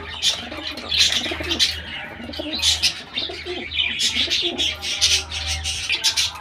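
Pigeons coo and chirp at a pigeon farm, soft repeated calls with rhythmic pulses over a low steady hum, one bird near and others scattered around.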